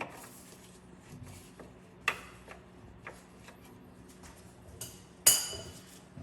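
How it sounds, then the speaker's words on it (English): A socket wrench turns a nut on the rear transfer case of an 88-98 OBS Chevy 1500, giving sparse, close metallic ticks and clinks, then one sharper clank near the end. There is no talking. "Let's see if I can just twist it off with the socket now"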